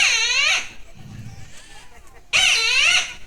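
A man imitates a kite's call with two shrill, wavering cries separated by a short quiet gap, close and fairly loud.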